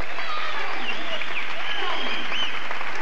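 An arena crowd applauds a figure skater at the 1998 World Professional Championships in Jaca, a dense continuous wash of clapping heard beneath a commentator's voice and a few whistles.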